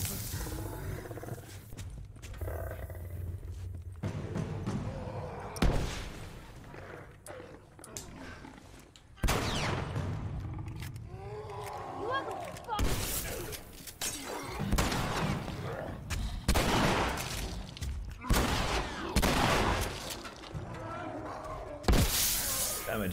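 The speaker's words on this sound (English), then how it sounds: "what kind of shooting is that?" Gunfire in The Last of Us rings out as loud, abrupt bangs spaced several seconds apart, mixed with harsh roaring, growling cries and tense voices throughout.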